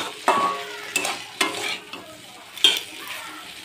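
A spice paste for a potato and cauliflower curry fries in a pan, with a sizzling hiss broken by four or five distinct stirring scrapes and clacks of the spoon, close and without talk.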